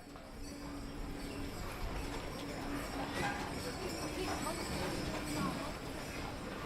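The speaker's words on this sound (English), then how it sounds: "People get around in horse-drawn carriages and small electric vehicles." Hooves of a horse-drawn carriage clip-clop along a car-free street in Zermatt, a steady rhythm under continuous town bustle and a murmur of voices.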